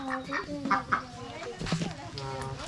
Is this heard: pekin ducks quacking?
yes